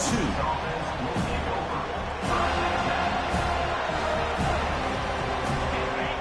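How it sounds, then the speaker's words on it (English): A college football stadium crowd roars in a steady, loud wall of noise, with a few sharper swells rising out of the din throughout. "It's early, but this crowd is fired up. Listen to this noise here."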